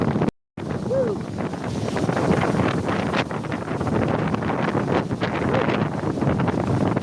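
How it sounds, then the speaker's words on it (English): Strong outdoor wind buffets a microphone in loud, irregular roaring gusts with rumbling low thumps, broken by a short dropout near the start, while a voice is faintly heard beneath it. "It is windy as hell."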